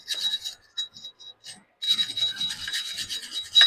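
Rust being scrubbed off Ford Focus brake components, heard as close, harsh rasping strokes in short bursts that then run into a steady, continuous scrub.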